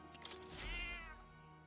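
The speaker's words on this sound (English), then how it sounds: "That's a good kitty." A single cat meow in the video game Metaphor: ReFantazio: one drawn-out, rising-then-falling mew, quiet and clear, with no talk.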